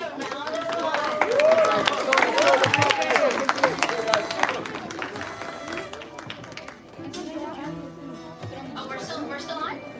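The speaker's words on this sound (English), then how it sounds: "Let's give them a round of applause." A crowd at the launch of a hackathon coding competition claps and cheers loudly amid chatter and babble. The applause peaks early, then thins into scattered hand claps under ongoing voices.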